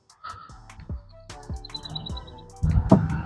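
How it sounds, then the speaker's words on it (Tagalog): Birds chirping in a rented backyard in Canada, several short, close, high tweets and a quick trill scattered over a few seconds, with thumps and handling noise underneath. "Naririnig nyo ba yung mga huni ng ibon?"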